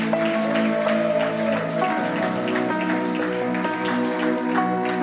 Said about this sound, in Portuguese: Pode aplaudir ao Senhor Jesus.